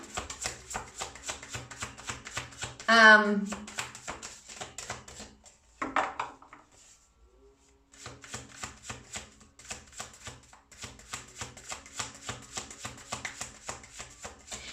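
A deck of tarot cards is shuffled close by in rapid bursts of riffling flicks, a louder riffle near the start, a short pause of near silence, then steady repeated shuffling to the end.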